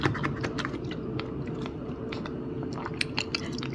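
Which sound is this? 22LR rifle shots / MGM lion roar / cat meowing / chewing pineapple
chewing pineapple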